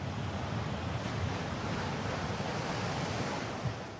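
Sea waves wash steadily onto a beach in a continuous broad roar of surf, with wind buffeting the microphone and no voices.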